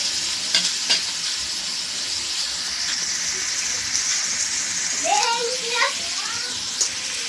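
Chopped onion sautéing in a hot pan for a Marathi home-style dried-fish dish, with a steady sizzle and occasional stirring scrapes close by, a few brief sharper clinks near the end.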